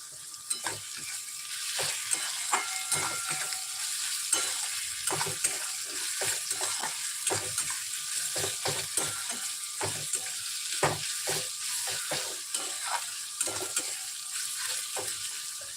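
Mustard oil sizzles in a hot wok while potato curry cooks, a continuous close frying hiss broken by frequent sharp crackles and pops.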